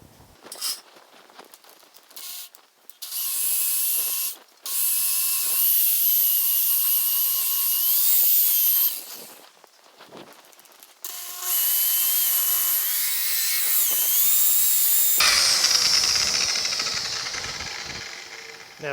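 A power sander with a foam wheel works over body filler on a 1950 Chevy truck body, its high whine running loud in long bursts with short pauses between passes and a shift in tone near the end.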